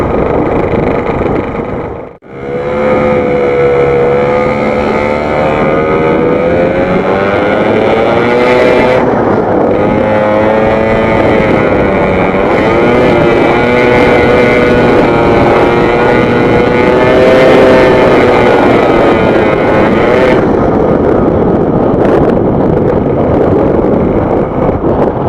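A Yamaha RX King two-stroke motorcycle engine revs repeatedly nearby, its buzzing whine climbing and falling in waves over a steady rasp, with some wind noise on the microphone.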